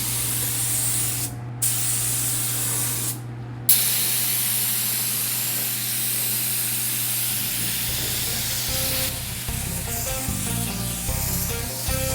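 A spray gun laying down base coat paint on a BMW 328i E90 hisses steadily and loudly in bursts, with short pauses between passes and a low mechanical hum underneath throughout.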